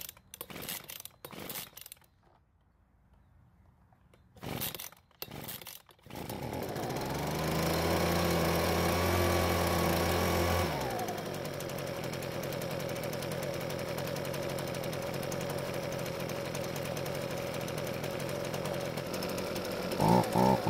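Small carbureted engine, freshly refuelled after water was found in the fuel, cranks with several pulls, then starts and runs at a loud buzzing high idle before dropping to a steadier lower speed, close up.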